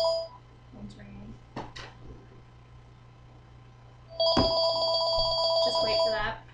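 A telephone rings with a bright, rapidly pulsing electronic tone near the end, preceded by a few soft clunks and brief sounds over a steady low hum; a speaking voice is faintly present.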